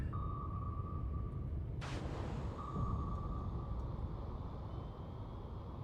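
A submarine propeller cavitates in a naval video game, a churning low rumble that swells in a sudden burst midway, with thin sonar-like tones sustained before and after.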